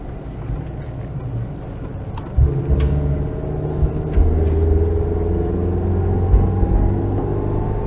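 A Citroen GSA's engine works hard on a long uphill climb, a loud steady rumble that steps up in pitch and stays droning close by.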